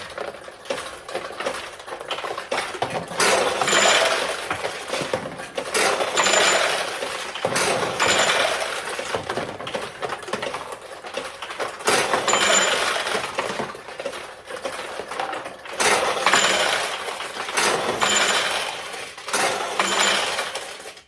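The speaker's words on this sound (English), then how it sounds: "that was the winning ball that dropped out, and the machine cycles" A restored 1976 Nishijin Model B pachinko machine runs through its cycle, with balls dropping and rattling against metal in dense, recurring bursts of clinks. The sound is loud and close, with no talking.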